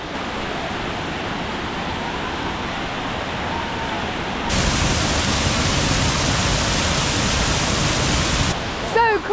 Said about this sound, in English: There's just so much running water.